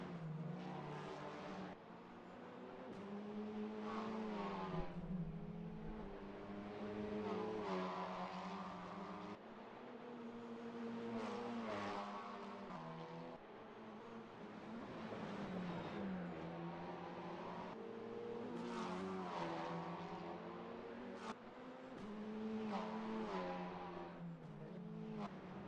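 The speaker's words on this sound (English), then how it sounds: "nice little whistling sound as the car shifts down into the corners" An open-wheel race car at the Macau AF3 season finale drones through the circuit, the engine note repeatedly rising and falling as it shifts down into corners, loud and continuous with shifting harmonic whine.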